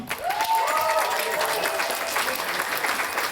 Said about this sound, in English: Give Susie another round of applause, everyone.